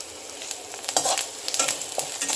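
Whole spices such as cloves, cinnamon and fennel roast in a pan for raw jackfruit kurma, a light crackling sizzle with close, rapid scraping and stirring strokes.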